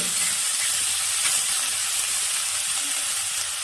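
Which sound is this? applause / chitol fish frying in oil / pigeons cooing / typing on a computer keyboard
chitol fish frying in oil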